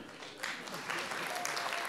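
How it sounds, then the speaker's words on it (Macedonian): Brief burst of audience applause at a stand-up comedy show, moderately distant clapping with a few voices mixed in. "Кој е за со аплауз?"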